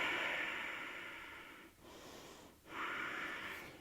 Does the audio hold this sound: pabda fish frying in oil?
no